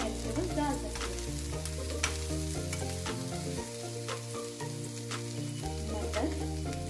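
Chopped tomato fries with a loud, constant sizzle in a pan for an instant semolina appe breakfast dish, with a low hum under the sizzle and a few light stirring clicks.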